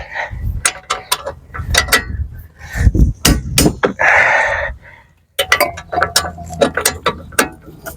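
A socket wrench ratchets against a seized bolt while changing the front wheel bearing on a BMW E92 3 Series, producing repeated loud clicking bursts and metallic clanks with a short pause near the middle.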